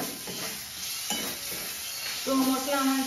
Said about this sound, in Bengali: তো মশলা আমার খুব ভালো করে কষে নিয়েছি